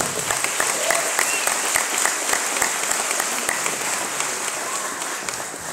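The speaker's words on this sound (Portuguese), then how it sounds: "Luciano Hang, salve de palmas para ele também." A crowd at a Brazilian legislative honor-medal ceremony applauds steadily, dense clapping sustained throughout at a fairly loud level, with faint voices mixed in.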